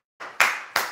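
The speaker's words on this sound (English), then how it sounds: "A clap for Mary." A few people clap briefly, three quick claps close by and fairly loud, with no talk over them.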